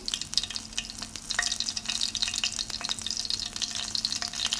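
Continuous crackling sizzle of garlic frying in hot oil, with scattered pops and light utensil taps throughout.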